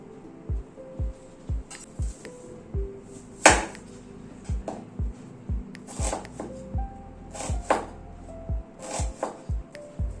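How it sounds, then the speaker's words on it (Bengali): Onions sliced lengthwise with a knife on a board, a steady series of close, sharp chopping thuds at roughly even pace with a few heavier knocks, no talking. "পেঁয়াজটাকে এরকম লম্বা লম্বা করে কেটে নিচ্ছি।"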